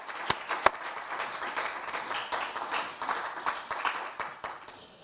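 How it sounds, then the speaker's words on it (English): Modest applause from a forum audience at a 2013 conference event, a few sharp near claps over a soft, scattered background of many hands clapping. "So please, a little clap for everyone to have done that."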